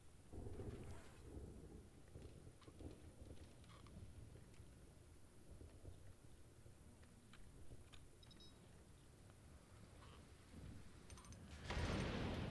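Thunder from a lightning strike in the survival game Stranded: Alien Dawn, a long low rumble rolling under steady rain for about twelve seconds and swelling into a louder crack-like burst at the very end.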